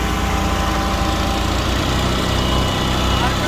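A tractor engine runs hard and steady at 540 RPM, powering a rotavator with twin discs; a loud, continuous rumbling drone that stays close throughout.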